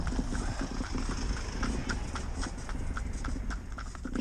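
Hooves of a miniature pony pulling a carriage with children in the back clip-clop in a quick, steady trot, close and clear, with continuous road and wheel noise underneath.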